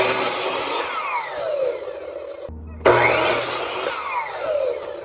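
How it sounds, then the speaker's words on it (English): A chop saw cutting boards in a basement, loud continuous whining motor noise with a brief drop out midway before the roar resumes, close and unbroken by talk. "And we're gonna go to the chop saw."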